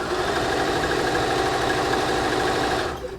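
A sewing machine stitching a quilt applique seam with a quarter-inch allowance, giving a fast, continuous mechanical whir and needle patter, close and loud, that stops abruptly near the end.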